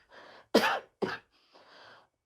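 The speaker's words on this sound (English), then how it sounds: "Don't worry about my cough," Two sharp, forceful coughs from one person, close by, set between soft breathy exhalations.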